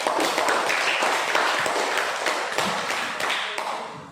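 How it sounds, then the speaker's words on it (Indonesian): Classroom applause for a student discussion group at a junior high school: a burst of many hands clapping quickly and fairly loudly for about four seconds, tapering slightly toward the end. "Beri tepuk tangan untuk kelompok dua."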